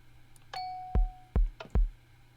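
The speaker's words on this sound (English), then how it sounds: "we've got a doorbell" A doorbell chime in the video game Minecraft: one short bright tone followed by three sharp, loud knock-like hits spaced about half a second apart, clear against a quiet background.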